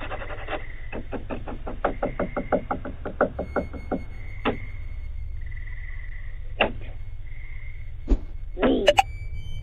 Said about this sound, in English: scratching and knocking sounds are audible, accompanied by a creepy voice demanding to be let in